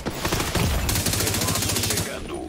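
Dense automatic gunfire in the video game The Division 2, loud rapid bursts rattling continuously for a couple of seconds before cutting off.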